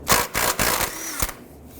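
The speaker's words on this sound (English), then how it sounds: "We're going to go ahead and remove the nut from the tie rod end." Tools work loose the nut on a 2005-2007 Jeep Liberty outer tie rod end, giving a few bursts of ratcheting and metallic grinding noise, then a sharp knock before the sound fades to quiet.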